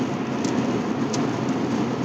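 Steady rain falls outdoors on a cold December morning, a loud, even hiss of drops with no talking.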